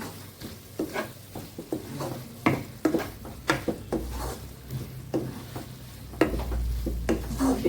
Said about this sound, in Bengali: এই পর্যায়ে আমি 3টে কাঁচা লঙ্কা দিয়ে দিচ্ছি।